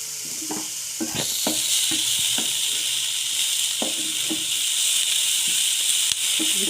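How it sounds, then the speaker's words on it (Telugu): Pasta with spring onions and salt fries in a pan over high gas. A loud, continuous sizzle carries on underneath, broken by repeated scraping knocks of stirring, with no talk. "గ్యాస్ హైలో పెట్టుకొని ఫ్రై చేయాలి కొంచెం సాల్ట్ కూడా వేసుకోవాలి"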